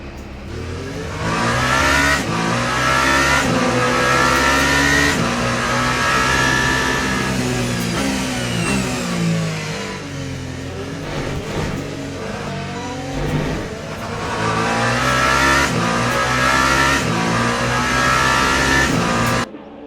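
Race cars, including hypercars, at the 24 Hours of Le Mans in the racing game Le Mans Ultimate, engines revving loudly and continuously as they rise and fall through gear changes, with no voices.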